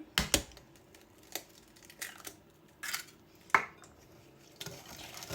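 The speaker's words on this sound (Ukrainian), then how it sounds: "Перемішуємо це все гарненько." Egg being stirred into about 30 ml of juice in a bowl, giving scattered clinks and scrapes of a utensil against the bowl with quiet pauses between them.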